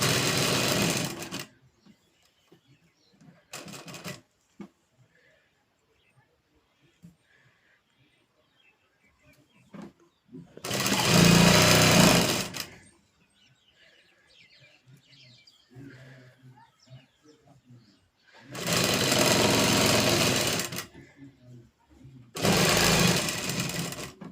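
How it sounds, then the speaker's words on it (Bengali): Sewing machine stitching a child's frock, running in four loud whirring bursts separated by quiet pauses, with faint bird chirps in the background. "এবার এটাকে এভাবে আমি চাপ সেলাই দিয়ে নেবো"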